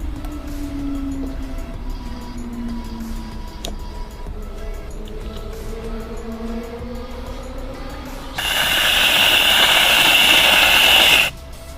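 A Rolo cocktail is strained from a shaker into a chocolate Easter egg: a steady, fairly loud hissing pour runs for about three seconds near the end, after a quieter stretch with a low hum.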